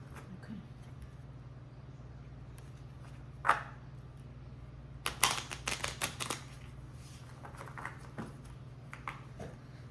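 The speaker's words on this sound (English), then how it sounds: "please go ahead and shuffle these cards" Playing cards being shuffled close by, a quick riffling burst of crisp clicks in the middle, with a few lighter taps and rustles afterward over a steady low hum.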